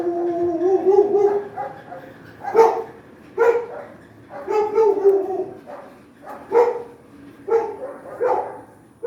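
Several dogs, apparently household pets kept at a rural block home with a barn, bark in repeated bursts through the whole stretch, fairly close and loud, with a few yelps between them.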